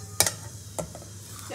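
Whole spices and a little sugar fry in a small amount of hot oil for potol kosha (pointed gourd curry), a soft sizzle broken by two sharp clinks of a spoon against the pan.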